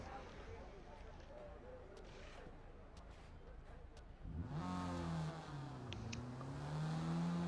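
A Mazda MX-5 C-class race car in Forza Motorsport at Kyalami, its engine rising in pitch as it accelerates and shifts, loud and close after a quieter stretch of ambient track noise.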